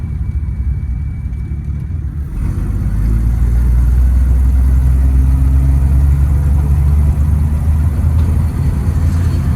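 A 1979 Plymouth Volare wagon, back on the road after years sitting in a junkyard, drones along with a steady low engine hum and road rumble that grows slightly louder and holds even, with no talking.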